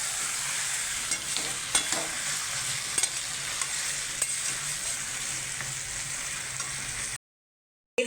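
Skin-on free-range country chicken frying in a pan while being stirred, a steady close sizzle with scattered scraping clicks, ending in a brief silence.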